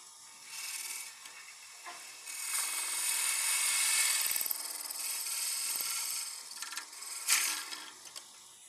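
Straight woodturning hollowing tool scraping the inside of a hollow wooden form on a lathe, giving a rough, hissing rasp that swells and fades in uneven passes, close and fairly quiet, with no talk.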